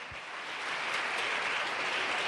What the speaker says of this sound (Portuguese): Vamos dar um aplauso a Jesus por esse elogio